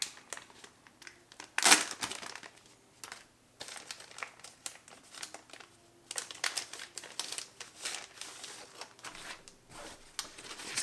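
Lithuanian combat ration pouch torn open at its tear notch: crinkly plastic rustling and handling, a sharp ripping burst early on, then continued close crackling of the packaging.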